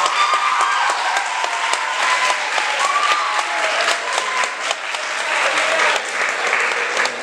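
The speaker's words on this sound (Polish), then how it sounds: "Prosimy o wielkie brawa naszych kandydatów." Audience applause for student candidates at a school debate, a dense, steady wash of many hands clapping throughout, moderately loud and sustained without a break.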